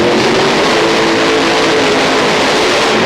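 A pulling tractor with a Keith Black 540 engine and high-helix blower roars at the start of its run in an indoor tractor pull arena, a loud, steady broadband engine blare that holds for the whole moment.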